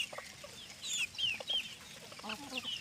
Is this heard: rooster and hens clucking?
yes